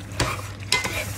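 Sautéed green vegetables simmer and sizzle in a pan, with a continuous close hiss and two quick spatula scrapes across the surface.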